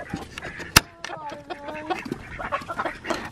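Chickens in a backyard coop, including a little black bantam rooster, cluck and call close by in a short run of squawks, with people talking nearby.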